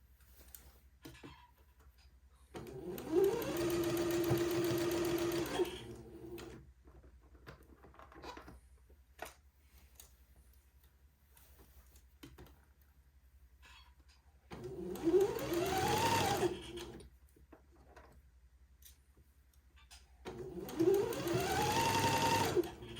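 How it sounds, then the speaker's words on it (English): A sewing machine runs a straight stitch on a dress sleeve in three bursts, each a few seconds of close, steady whirring and needle ticking, separated by quiet pauses with small handling noises. "I'm going to sew a straight stitch holding the sleeve into place, taking my pins out as I come to them."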